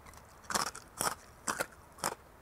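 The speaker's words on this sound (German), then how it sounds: "die Kruste ist perfekt geworden. Ich knusper nochmal nach." Four crisp, loud crunches in an even rhythm as someone bites into the crackling crust of a herb-fed pork roast, close to the mouth with no talking.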